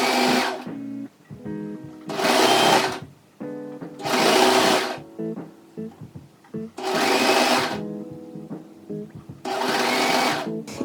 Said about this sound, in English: I personally went ahead and I serged my edges